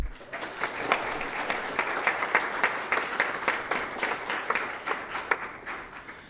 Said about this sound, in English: Can we get one more round of applause for all of them?